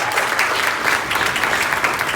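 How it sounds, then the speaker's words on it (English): A large summit audience breaks into loud, dense applause, a continuous close roar of many hands clapping with no speech over it. "so big round of applause."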